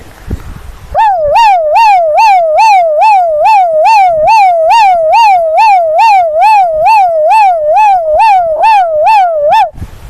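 A man imitating an ambulance siren with his voice, a loud, close, wavering wail rising and falling in steady regular cycles for about nine seconds, with brief quiet before and after.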